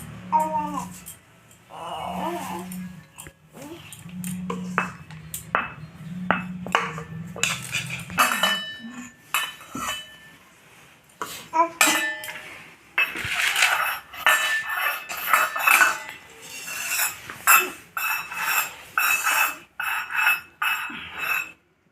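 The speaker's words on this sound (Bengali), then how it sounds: "পেঁয়াজগুলোকে শুরু শুরু একদম ধীরে ধীরে করে কেটে নেব আমি।" Onions cut slowly with a knife for an evening paratha snack: a long series of sharp, irregular taps and clacks that speed up over time, mixed with metallic clinks of utensils.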